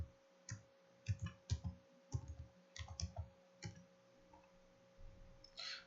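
Computer mouse clicking during work in the Godot 4 game editor, a series of sharp close clicks in small irregular clusters against a quiet hum, with no voice.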